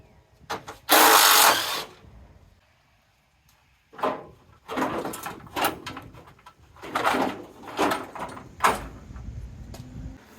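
A truck's core support is dragged and pulled free in a garage during a V8 swap on an S10, producing loud scraping and clunking metal bursts separated by quiet gaps.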